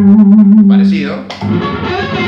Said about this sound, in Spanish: Lo hago de vuelta limpio.